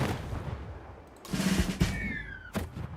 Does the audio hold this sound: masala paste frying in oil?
no